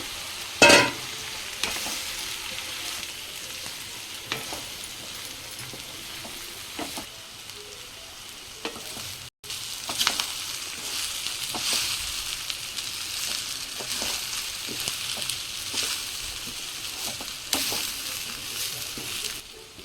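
Sago pearls and peanuts tipped into a hot pan and stirred for sabudana upma, with steady frying sizzle and repeated scraping and stirring strokes, slightly louder after the ingredients go in, with no talk.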